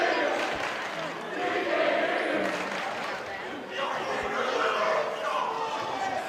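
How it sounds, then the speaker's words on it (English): A high school boys basketball student section roars and chants loudly and continuously in a gym, swelling in waves, while a commentator talks over it. "Good student crowd for the Titans."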